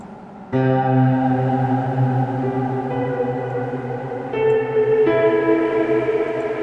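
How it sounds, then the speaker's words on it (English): Sustained tonal chords drenched in a huge, lush cloud reverb plugin effect that blooms and smears, swelling again midway with a fresh layered chord. "this reverb, it's like I've never heard a reverb like this"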